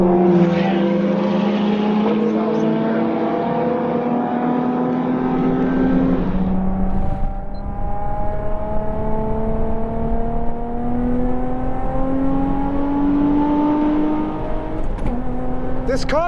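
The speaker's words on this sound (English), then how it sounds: "This car sounds so good!" A car engine on a race track roars steadily and loudly throughout, its pitch climbing slowly under load, dipping at a gear change, then rising again.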